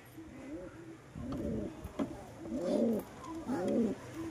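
Caged pigeons, some with colds, coo repeatedly in low, throaty bursts close by, several birds overlapping in a rolling rhythm.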